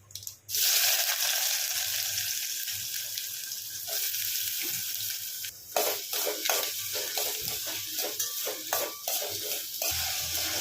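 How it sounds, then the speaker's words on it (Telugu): Onions, green chillies, mustard seeds and cumin fry in a pan for a moong dal and onion curry, giving a steady, close, loud sizzle broken by repeated scraping stirs of the spoon. "ఉల్లిపాయలను అయితే ఫ్రై చేసుకోండి ఒక 2 మినిట్స్"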